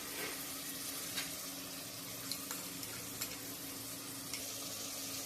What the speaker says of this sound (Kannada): ಆಮೇಲೆ ನಾವು ರುಬ್ಬಿಟ್ಕೊಂಡಿದ್ದೀವಲ್ಲ ಗ್ರೀನ್ ಮಸಾಲನ ಅದು ಇದರಲ್ಲಿ ಹಾಕ್ಬಿಟ್ಟು ಚೆನ್ನಾಗಿ ಫ್ರೈ ಮಾಡೋದು